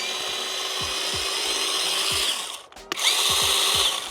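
A Grand mini jigsaw runs with a steady high buzzing drone and faint rhythmic clicks, cutting out briefly near the end before starting up again just as loudly.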